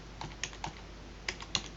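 Soft, quick keystrokes on a computer keyboard as a tax file number is typed in, an irregular patter of light clicks at moderate distance with no talking.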